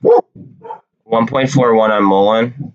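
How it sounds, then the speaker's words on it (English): Indoor dogs bark close by, starting with a few short barks and then a sustained, wavering howl-like bark that overlaps a man's speech. "Sorry about the dogs, guys."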